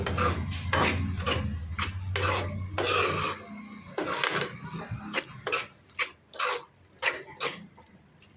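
A spoon stirs okra (bendakaya) curry in a pan, with a run of close scraping and clacking strokes, irregular at first and then more evenly spaced, over a low hum that fades out partway.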